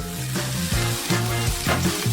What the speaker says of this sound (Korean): 국자로 반죽을 조금 떠서 프라이팬에 올려주는 거야. 그리고 노랗게 익을 때까지 구워주는 거지.